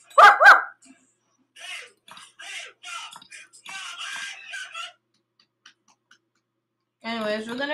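A dog gives a couple of sharp, close barks at the start, followed by scratchy rustling sounds and then a voice speaking.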